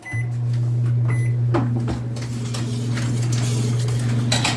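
A microwave oven hums steadily at close range, a low continuous drone with a few faint clicks and knocks on top.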